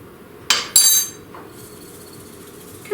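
Homemade onion soup mix is spooned through a small funnel into a storage jar, giving two close metallic clinks and a brief rattle of dry granules, then quiet.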